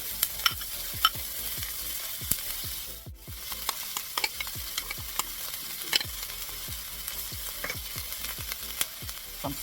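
Onions and peppers fry in a pan with a soft, steady sizzle punctuated by frequent sharp clicks and pops, briefly dipping quiet midway before resuming, heard close with no talking.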